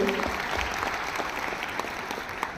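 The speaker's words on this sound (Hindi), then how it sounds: "तालियों के गड़गड़ाहट भी बनी रहे।" Steady applause from an audience at the national water awards ceremony, presided over by the President of India, continuing evenly and close throughout, with a faint voice underneath.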